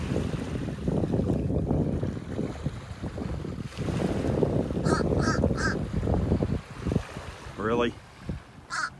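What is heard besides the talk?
crow cawing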